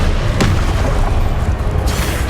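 A fiery Confringo blast spell bursts in Hogwarts Legacy, a loud dense rumbling boom that fills the whole moment, with a sharp crack near the start and another flare near the end.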